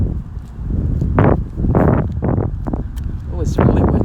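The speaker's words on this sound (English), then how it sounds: "it's really windy out here" Gusty wind buffets the microphone in loud, uneven bursts, with a person's voice partly buried beneath the blowing.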